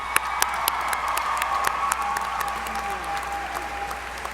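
Applause from the crowd at a 2019 high school graduation, a steady wash of clapping with a few sharp individual claps standing out, moderately loud and sustained throughout.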